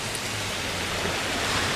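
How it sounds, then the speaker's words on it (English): Steady rain pours down at an outdoor bus stop on a cold day, a dense continuous hiss of drops with no break, close and fairly loud. "It's annoying because it's raining and it's cold."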